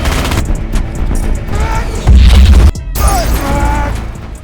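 Nazi tank gunfire in a WW2 battle scene: loud, dense booms and crashing impacts with mechanical clatter, including one heavy deep blast near the middle, over continuous chaotic rumble.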